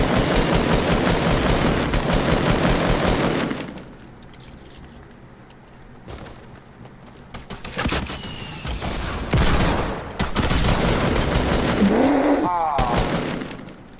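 Rapid bursts of video game gunfire, including shotgun blasts, crackle loudly in the opening seconds and return in clusters later amid other game noises and a voice.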